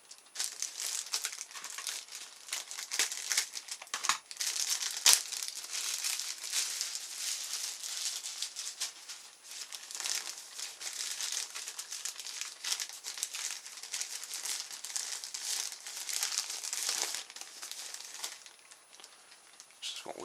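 Packaging from a cheap plastic kite is opened, giving a steady, dense crinkling and rustling of thin plastic for about twenty seconds, close to the microphone, with one sharper tearing crackle partway through.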